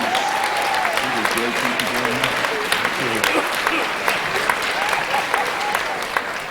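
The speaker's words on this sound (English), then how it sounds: "Everybody give her a big round of applause, please." An audience at an anniversary magic show breaks into sustained clapping for a nervous volunteer, broad and continuous with a few louder individual claps and faint voices mixed in.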